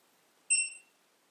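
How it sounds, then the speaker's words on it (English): A Onewheel XRV electric board powers up with a single short, clear electronic beep in an otherwise silent room, bright and tonal, fading quickly. "Got a beep and power light"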